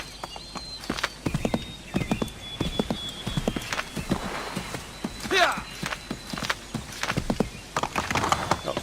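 A horse galloping in Assassin's Creed 3, rapid hoofbeats thudding in a steady rhythm, close and clear, with someone talking over them.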